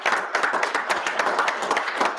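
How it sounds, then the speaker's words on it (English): People at a Rio Rancho school board meeting give a round of applause, a lively burst of close, crisp clapping from a modest crowd that carries on steadily for a couple of seconds. "Just one more applause."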